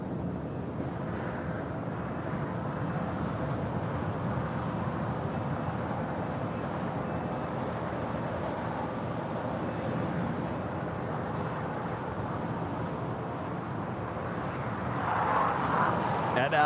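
A United Boeing 757-200, 28 years old, departs LAX on its way to Newark, its steady engine roar filling the air at moderate distance and swelling slightly near the end, with a voice talking over it.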